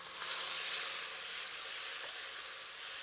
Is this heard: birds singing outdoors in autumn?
no